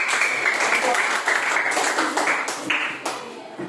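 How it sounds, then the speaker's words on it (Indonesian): Classroom applause from students for a presenting group during a maths lesson, a busy patter of hand claps with a few brief voices mixed in. "Ya, berikan tepuk tangan untuk kelompok 1."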